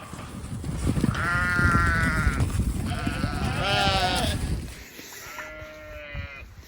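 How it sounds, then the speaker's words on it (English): Several sheep bleat in overlapping, wavering calls over a busy rumble of movement, then one fainter bleat follows after the noise drops away. "Bunch of sheep where they're not supposed to be."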